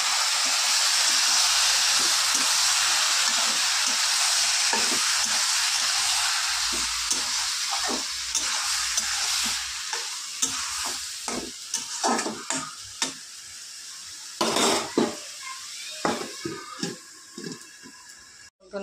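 Spiced ingredients tip into a kadai of onions fried red, setting off a loud, steady sizzle with frequent stirring scrapes and clatters that grow sharper and more broken toward the end; nobody speaks.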